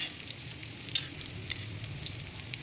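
Shami kebabs fry in a pan until golden brown, a steady close sizzle with a bright hiss running the whole time and small pops and crackles scattered through it, no voices.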